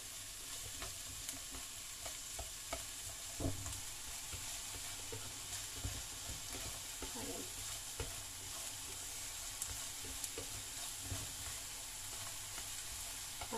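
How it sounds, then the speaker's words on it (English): Garlic, onion and carrots sauté in a pan with a continuous crackling sizzle, with occasional utensil scrapes and clicks as they are stirred. "Isa po natin ang bawang, sibuyas, at carrots."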